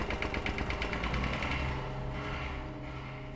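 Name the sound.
rumbling tractor approaching, from the video game Tiny Bunny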